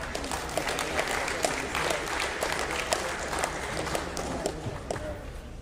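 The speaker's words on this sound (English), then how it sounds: "Give them a round of applause." A crowd in a high school gym applauds students at a winter sports awards assembly. Dense, even clapping with scattered sharp claps carries steadily throughout at moderate, slightly distant volume.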